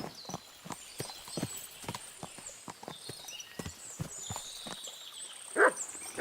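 A horse's hooves clip-clop at a steady walking rhythm in the medieval game Kingdom Come: Deliverance, fairly close, with light ambient game sounds and a dog barking once near the end.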